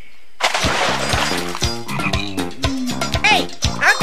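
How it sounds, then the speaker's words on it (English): Frogs in a pond croak in quick, rhythmic bursts that sound close and loud, repeating through most of the stretch. "Croak. Needy. Ribbit."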